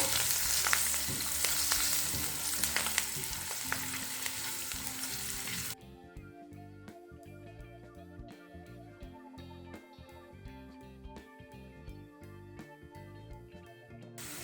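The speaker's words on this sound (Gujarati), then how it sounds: "હવે આપણે આને સાતળી લઈએ છે" Garlic cloves cut into pieces sizzle and fry steadily in a hot pan for kaju palak, a loud continuous crackle that quiets after a few seconds into softer, steady frying.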